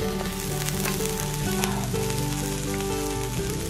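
Beef birria tacos sizzle and crackle steadily in a hot skillet, a dense frying hiss heard up close with no voices.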